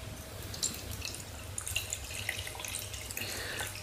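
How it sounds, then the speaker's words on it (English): Beer, a Mad Dog Brewing Company Candy Tastic 4.5% from a can, pours into a glass with a soft steady trickle and faint fizzing splashes, quiet and continuous without talk. "So the beer itself is pouring quite a muggy yellow orangey colour"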